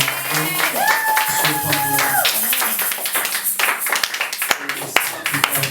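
A church congregation at a Sunday service claps in a burst of applause, overlapping a sung or held voice at first, then scattered claps continuing near and loud.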